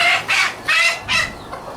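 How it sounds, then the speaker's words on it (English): Chickens in a pigeon loft area cluck loudly and close up in a quick series of four or five squawking bursts. "sorry about that, chickens are getting wild"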